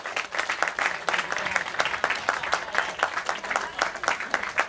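Audience applause at a football club's season presentation as a goalkeeper is introduced: steady, dense clapping from a crowd indoors, moderately loud and continuing throughout without a break.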